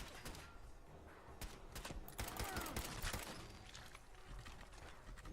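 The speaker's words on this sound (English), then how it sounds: "let's run at this person and shoot them" Rapid bursts of gunfire from the video game Fallout 4, a dense volley of sharp cracks layered with game clatter, moderately loud and continuous over several seconds.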